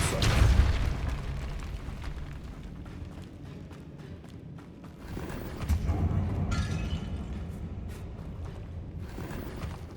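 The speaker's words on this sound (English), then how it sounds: "Convulso" A Convulso spell cast in Hogwarts Legacy, a heavy opening boom followed by scattered thumping impacts and a second swell of blasts midway, fairly loud with no talk over it.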